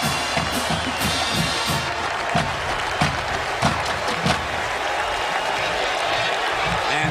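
A football stadium crowd at an Ohio State versus Purdue game keeps up steady cheering and applause, a dense continuous roar with scattered claps and shouts, while a commentator talks over it.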